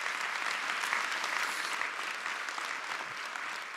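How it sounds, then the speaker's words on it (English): Audience at Kent Devereaux's inauguration as Goucher College's 12th president applauds a newly named PhD, dense sustained clapping from a large crowd, even and steady for the whole stretch. "Give him a round of applause as a PhD"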